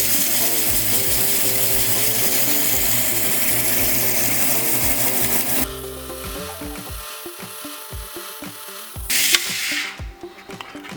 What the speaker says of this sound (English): We get my water drip going, get a good hold on the stone, and just want to grind a flat spot